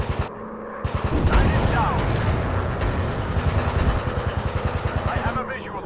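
Rapid machine-gun strafing from a WW1 fighter plane in a VR flight simulator game, steady bursts of evenly spaced shots over a droning engine, with a voice talking over the gunfire.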